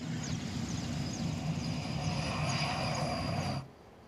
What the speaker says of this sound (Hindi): NN-32 विमान उड़ान भरकर चिनियाली सौड़ एयरपोर्ट पहुंचा, जहां लैंडिंग और टेक ऑफ का अभ्यास करीब 12 बजे तक जारी रहा।